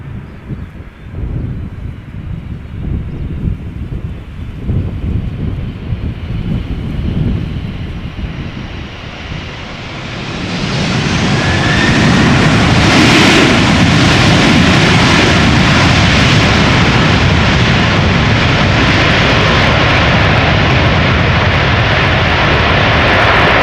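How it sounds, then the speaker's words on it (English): A Suparna Airlines Boeing 747 cargo jet lands at Schiphol after arriving from Hefei, China. A distant engine rumble with wind buffeting swells into a loud, sustained roar that stays high as the jet passes close overhead. "Suparna Airlines arriving from Hefei, China."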